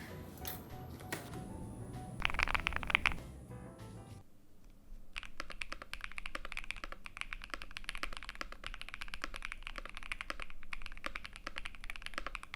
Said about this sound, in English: the keyboard sounds pretty good